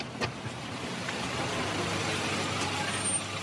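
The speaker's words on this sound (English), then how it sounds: "It's a monster truck. It's pulled up." A heavy truck engine rumbles and hisses as it rolls up, a steady broadband roar with low-end throb and a couple of faint clanks, moderately distant.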